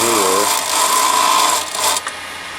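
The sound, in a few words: wood lathe cutting with a detail gouge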